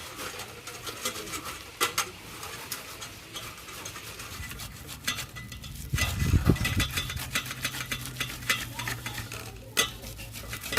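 Pulp is worked out of palm fruit in a bowl, giving soft irregular squelching and scraping with occasional light knocks against the bowl, close and fairly quiet.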